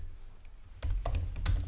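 Quick, light keystrokes on a computer keyboard while filling in a Companies House form, a short burst of several close taps after a quiet moment.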